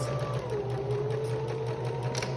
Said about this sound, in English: I'm going to back stitch and go all the way to the end